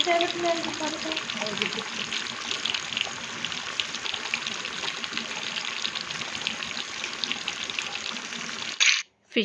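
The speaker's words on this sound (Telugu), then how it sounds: "ఇక్కడైతే నేను ఫిష్ ముక్కలను అయితే వేస్తున్నాను ఒక నాలుగు రెండు మూడు ముక్కలు వేసుకొని అయితే మంచిగా ఫ్రై చేసుకుంటాను" Fish pieces sizzle steadily in hot oil, a dense continuous frying hiss that stays loud throughout, with a brief burst and drop-off at the very end.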